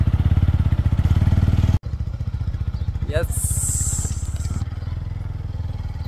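A motorcycle engine idles steadily up close, cuts out abruptly, then rumbles on again with clattering and a high whine, while people talk nearby.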